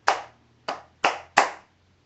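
Four distinct hand claps ring out close by in an uneven rhythm, each sharp and quickly decaying, with near silence between them.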